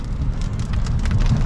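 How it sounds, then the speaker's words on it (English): Steady, loud rain falls and patters on surfaces nearby, a dense continuous hiss with a low rumbling undertone, and no voices. "Raining"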